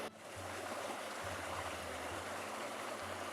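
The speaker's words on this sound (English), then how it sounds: "there will be not so much water running in this creek" Water rushes steadily down a mountain creek on Pelion, a continuous broadband roar with no voices and no breaks.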